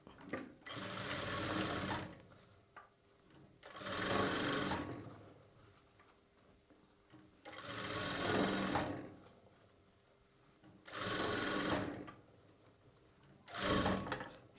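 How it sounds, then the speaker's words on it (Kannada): A sewing machine stitches a boat neck blouse in five rapid, whirring bursts of a couple of seconds each, separated by brief quiet pauses, close and moderately loud. "ನಾವು ಒಂದೇ ಸಾರಿ ಒಂದು ಸ್ಟಿಚ್ಚನ್ನ ಮಾಡ್ಕೊಳ್ಬೇಕು"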